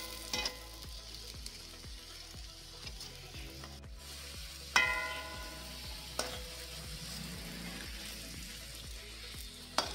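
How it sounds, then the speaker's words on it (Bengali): Paratha frying in a pan, a soft steady sizzle with regular scraping strokes from turning and pressing, plus a few sharper knocks against the pan. "এইভাবে ভেজে নেওয়া হচ্ছে, দুদিকটা ভালো করে লাল লাল করে একটু ভেজে নিতে হবে"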